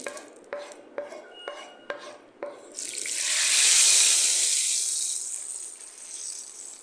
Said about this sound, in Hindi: लाल मिर्च के साथ बघार डालूँगी।